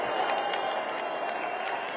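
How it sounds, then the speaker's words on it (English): A large crowd at a Trump rally roars and cheers steadily, a dense, continuous wash of voices and applause with no break. "And they're cheering and cheering."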